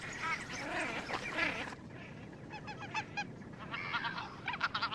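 Shelducks call repeatedly, honking, goose-like cries in overlapping bursts from a few birds, moderately distant and fairly faint, with no talking.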